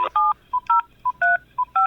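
Telephone keypad dialing gives a quick sequence of about eight clean, loud touch-tone beeps at an uneven, brisk rhythm, each short and close, with silence between them.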